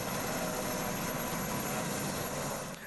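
Helicopter flying a flood rescue and relief operation, a steady broadband rotor and engine roar held loud and constant throughout, easing slightly at the very end, with no voices.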